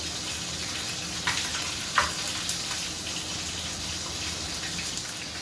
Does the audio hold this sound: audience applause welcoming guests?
no